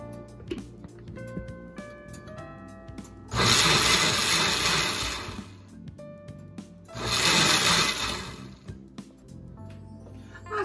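A kitchen blender grinds salsa with cilantro in two loud bursts of a few seconds each, its motor roaring and whirring, with quieter clinks and background music between the bursts.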